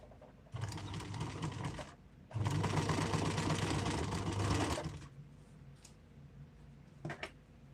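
A nearby sewing machine stitches fabric in two bursts of rapid, even whirring, a short run and then a longer one, followed by quiet handling and a couple of faint clicks.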